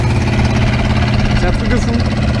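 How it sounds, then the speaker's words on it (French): A small tow car, built on a front-wheel-drive Citroën Traction, pulls a dragster along the drag strip, its engine a steady loud mid-pitched drone with a rough idling knock throughout, voices talking over it. "c'est une mini voiture qui tracte le drag"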